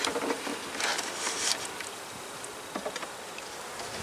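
Honeybees buzz around hive frames as a box is worked on, a soft, continuous hum close by with a few louder passes of individual bees, and no one speaking.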